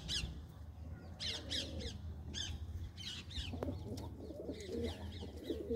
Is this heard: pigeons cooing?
yes